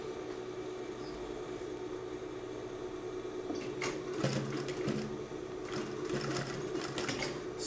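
Sewing machine closing the bottom of a bag, a quiet steady motor hum at first, then a faster rattling run of stitches with small stops and restarts in the second half, no voice.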